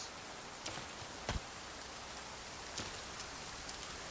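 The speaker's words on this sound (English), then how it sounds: "All right, gotta get out of this rain quick." Steady rain falling in the forest of the survival video game The Forest, a constant soft hiss with a few sharper drop taps and a low thump, quiet and continuous with no talking.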